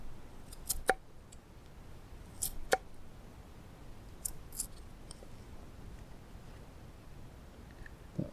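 A knife cutting into a raw carrot while carving a carrot whistle, a few short crisp cuts spaced out over a quiet background with faint handling noise.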